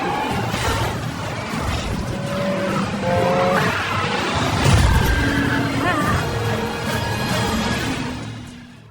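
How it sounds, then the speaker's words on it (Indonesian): An action-film car chase roars past with revving engines and sharp skidding, squealing tires, loud and close throughout, swelling midway, then fading at the end, with a voice heard faintly in the mix. "Setelah itu Mike lanjut mengejar Javier yang sedang kejar-kejaran dengan Roxy."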